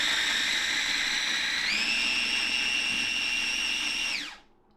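An electric blender or immersion blender whirs steadily while blending steak sauce, its high motor whine stepping up in pitch partway through and then spinning down to a stop near the end.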